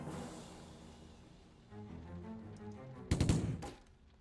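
Gunfire in the Silent Storm video game comes as a short burst of loud, sharp shots near the end, preceded by low muffled game ambience.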